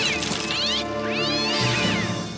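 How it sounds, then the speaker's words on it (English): A pet cat gives two loud, drawn-out meows close by, each rising and falling in pitch, with no talking. "Oh, and this is my cat, Whiskers."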